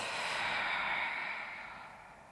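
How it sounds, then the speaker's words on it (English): Big, deep breaths taken during a yoga session for diastasis recti, one long airy exhale that fades out gradually, close and alone with no talking. "And a few big breaths"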